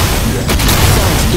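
Xenon's Particle Accelerator skill firing in MapleStory, a loud booming blast with a brief crackling burst near the middle over a dense, sustained roar.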